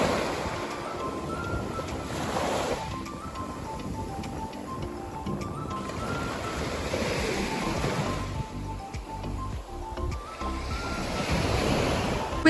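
Sea waves wash steadily onto Porto Giunco beach in Sardinia, swelling and receding in a continuous rushing surge, with some wind noise and no talking.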